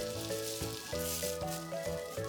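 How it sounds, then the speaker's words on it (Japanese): Frozen meat-wrapped zucchini rolls, komatsuna with bacon, carrots and fried tofu steam-fry together in a single covered frying pan, giving a soft, steady sizzle that sits under louder background music. "全部凍ったまま火にかけて蓋をして蒸し焼きにします"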